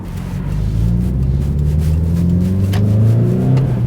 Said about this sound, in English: You can hear the induction noise. You can just hear it breathing.